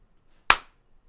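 A single sharp hand clap for syncing microphone audio, close and loud with a short decay, standing alone in a quiet room.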